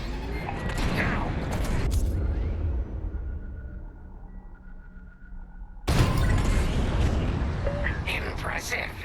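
Bombs exploding in the Star Wars Squadrons space-combat video game in VR: a roaring barrage fades into a quieter lull, then a sudden loud blast erupts and heavy rumbling follows, with voices talking.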